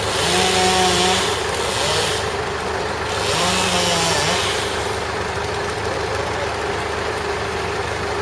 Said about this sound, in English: he's cutting the first branches off